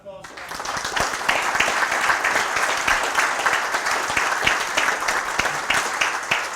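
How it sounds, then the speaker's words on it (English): At a coaches clinic afternoon session, an audience breaks into dense, sustained applause that starts abruptly and holds at an even, fairly loud level, with many overlapping claps throughout. "How about another round of applause?"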